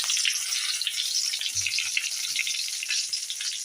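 Curry leaves fry in hot oil with mustard seeds and dried red chillies, giving a steady, close, bright sizzling hiss with a few soft low knocks midway.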